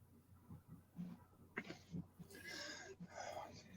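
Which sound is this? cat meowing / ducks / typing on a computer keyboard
cat meowing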